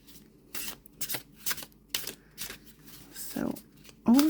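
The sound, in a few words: tarot cards being shuffled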